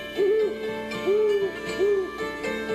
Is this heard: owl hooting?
yes